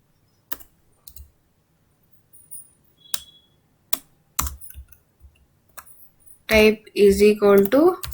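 Computer keys clack sparsely and then more densely while an Excel formula is typed, close and distinct, with a person's voice coming in near the end over the last few keystrokes.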